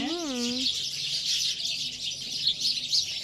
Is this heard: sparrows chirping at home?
yes